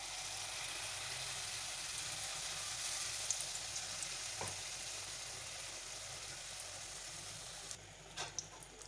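Ripe palm fruit malpua batter frying in hot oil, a soft, even sizzle and bubbling at close range that runs steadily, with a few small clinks near the end and no speech.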